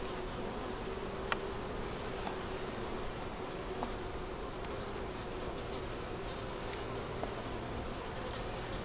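Honey bees drone steadily at an open hive during a frame-by-frame inspection, a continuous dense buzz with a few faint clicks and knocks of handled frames.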